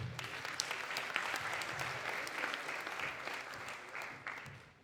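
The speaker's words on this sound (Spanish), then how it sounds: "Un aplauso para él, por favor." A crowd applauds steadily, soft and somewhat distant, with a dense patter of clapping throughout.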